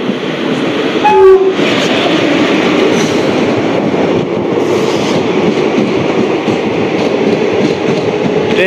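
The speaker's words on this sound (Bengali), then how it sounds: "এটা শিয়ালদা আসানসোল ইন্টারসিটি এক্সপ্রেস" The Sealdah–Asansol Intercity Express rushes past, sounding a short horn blast near the start before a loud, continuous roar of wheels and rattling coaches carries on to the end.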